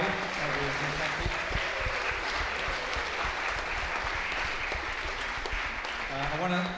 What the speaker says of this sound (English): Can we give them a massive round of applause today?